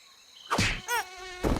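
Mosquito buzzing in a video game, a close, loud whine that swells in three short bursts as the insect flies past, with no talk.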